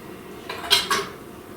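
A measuring spoon tipping baking soda into a mixing bowl while making an orange carrot bundt cake, giving two short metallic clinks against the bowl in quick succession, close and alone.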